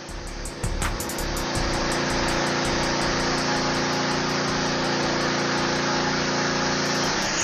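A Philking PK160A portable inverter welding generator running two power tools and a welder at once: a steady engine drone with a layered mechanical whine holds loud and even throughout, without speech.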